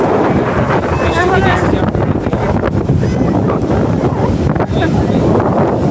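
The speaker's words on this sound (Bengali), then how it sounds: "চারপাশে আর সমুদ্র, আর মাথার ওপর দিক দিয়ে খালি বৃষ্টি পড়ছে আকাশ থেকে।" Sea waves and strong wind roar at Digha beach during rain. The sound is loud and close, with constant buffeting wind on the microphone over the rushing surf.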